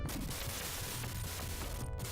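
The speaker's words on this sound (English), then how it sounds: "So the explosions here will do us some good, but I'm out of ammo." Explosions and gunfire from the Sega Genesis game Growl, a continuous loud burst of blasts and crashes with no talking.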